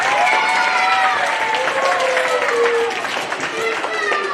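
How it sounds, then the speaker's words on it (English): An audience applauds a student at an elementary school assembly, a steady wash of clapping with some cheering and voices mixed in, sustained throughout. "Big round of applause for Tessa Japutra"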